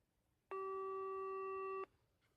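A synthesized electronic tone pitched at G sounds once, a steady, pure hum lasting just over a second with an abrupt start and stop, alone against near silence.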